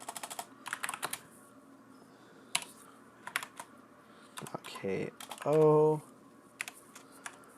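Computer keyboard typed on while entering Linux commands during a Gentoo setup, a burst of quick close clicks around brief speech, with a short pause between runs of keystrokes.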